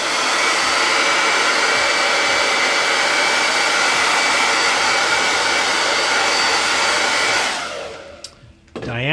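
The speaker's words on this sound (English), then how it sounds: "tends to dry quickly too with the hair dryer" A hair dryer blows loudly and steadily up close for several seconds, then switches off and winds down.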